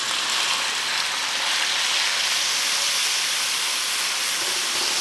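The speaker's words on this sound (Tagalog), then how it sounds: "Ginigisa ko lang yan hanggang sa mag-brown." Pork sizzles in hot garlic-infused cooking oil for sotanghon guisado, a steady loud hiss and crackle that fills the whole stretch without pause or talk.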